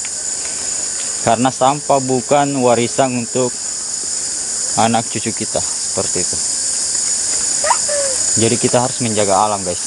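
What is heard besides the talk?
crickets chirping in a cave area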